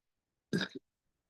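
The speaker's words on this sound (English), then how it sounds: "I'm burping again" A single short burp, one close, abrupt guttural sound in otherwise near silence.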